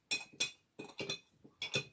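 A spoon clinks against a glass while stirring, about five or six bright, quick taps in an irregular rhythm, close and fairly quiet, with no voices.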